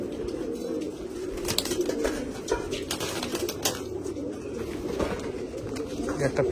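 Close, continuous cooing from white pigeons, several birds overlapping in a low warbling drone, with brief rustles and wing flutters breaking through.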